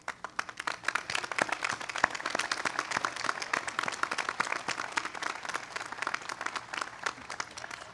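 A university commencement audience applauds the faculty at Carroll University, with steady, dense clapping from a large crowd filling the hall throughout, unbroken by any speech.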